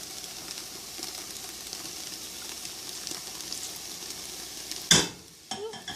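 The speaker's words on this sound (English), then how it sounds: "I'm going to take my 4 cans of diced tomatoes. I'm going to add it to this mixture." Four cans of diced tomatoes are poured into okra sizzling in a pan for a stew, giving a steady frying hiss that ends with a loud splashing burst and a few clattering stirs.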